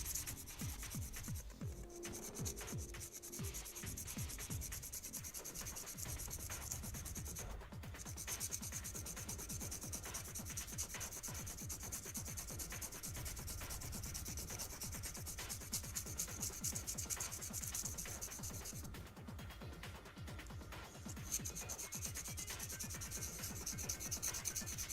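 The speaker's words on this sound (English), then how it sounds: "I wonder if I can like use the sandpaper to sharpen it faster." A pencil being sharpened against sandpaper, close and steady: continuous scratchy rubbing strokes in a fast, even back-and-forth rhythm that runs without a break.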